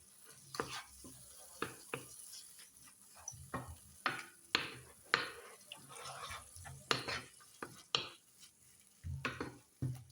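Tomatoes fry in a pan for a Tunisian-style minced-meat spaghetti sauce while a spoon stirs them. A faint sizzle runs under many short scrapes and clinks against the pan, heard close and quiet with no talking.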